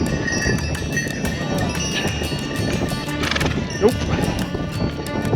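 Steady clip-clop of hooves on a mountain trail near Everest Base Camp with a horse whinnying, alongside rustling and a brief spoken word.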